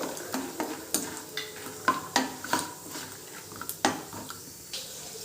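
Peanuts are added to a pan over a medium flame and stirred, giving a run of sharp scraping and clinking strokes from a spoon against the pan over a faint sizzle, close and moderately quiet.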